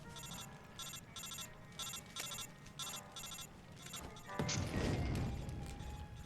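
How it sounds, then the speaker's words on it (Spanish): A telephone rings in repeated bursts in Metal Gear Solid 3: Snake Eater, then a loud smash cuts it off, followed by a noisy crashing rumble that fades slowly. "La mierda del teléfono de los cojones."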